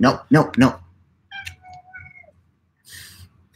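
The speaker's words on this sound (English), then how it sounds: "Kitty's here." A cat gives a short meow up close between bursts of people talking nearby.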